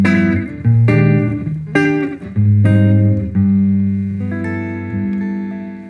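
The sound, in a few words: guitar playing a 12-bar blues turnaround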